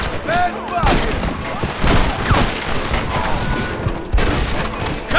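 Western gunfight in Red Dead Redemption: dense, rapid rifle and pistol fire crackles nonstop, with shouted voices under the shots.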